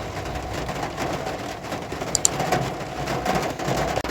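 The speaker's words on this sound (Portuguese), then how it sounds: "Olha, meninas, tá chovendo aqui, ó, tá vendo? Ó, tá chovendo. Chovendo pra caramba aqui" Heavy rain pours down steadily, a dense, continuous hiss of drops close by, with one or two brief clicks and no talking over it.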